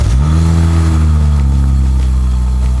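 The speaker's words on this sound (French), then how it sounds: "C'est ce qu'on appelle un cold start N54." A BMW N54 engine on a cold start, revving hard then holding a loud, steady high idle with deep harmonic drone throughout, close and continuous with no talking.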